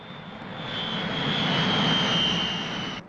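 A steady airplane engine drones in flight from Aberdeen to Sumburgh in Shetland, a broad roar with a high whine on top, continuous and loud, with no talking.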